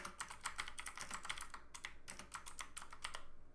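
Steady typing on a computer keyboard, a quick run of light clicking keystrokes with a brief pause partway through, close and fairly quiet with no voices.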